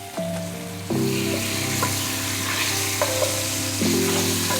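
Chicken pieces hit a hot pan of browned onion and turmeric with a loud surge of sizzling, settling into a continuous close frying hiss with occasional stirring clicks over a low steady hum.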